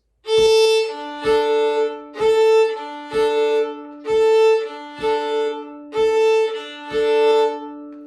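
Fiddle hook bowing sounds in eight evenly spaced strokes, each with an accented vertical down push, two strings ringing together in a steady rhythm.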